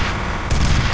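Gunfire in F.E.A.R. at an industrial compound: a quick burst of loud, sharp shots with a heavier blast arriving halfway through, close and forceful.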